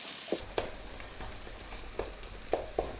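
Egg thokku ingredients sautéing in a pan, a low steady sizzle with a handful of sharp utensil taps spaced irregularly, close and with no talk.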